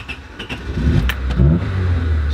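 An old Honda car engine turns over with a few short cranking bursts, then catches and settles into a low, steady idle close by.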